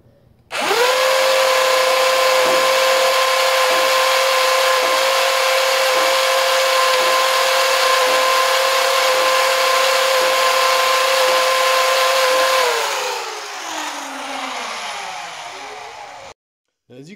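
A flywheel foam dart blaster test fired after reassembly with a new flywheel cage, giving a loud, steady high-pitched motor whine for about twelve seconds with faint rhythmic pulses of darts feeding, then the spin winds down and stops.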